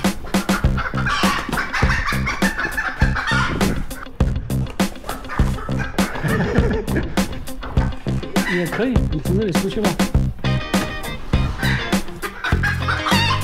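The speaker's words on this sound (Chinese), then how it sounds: "哇，进来了好多鸡。" Chickens cluck and squawk in a busy flurry as a farm volunteer sweeps a flock of hens out of a building with a broom, the birds loud and close, with a person talking to them over the commotion.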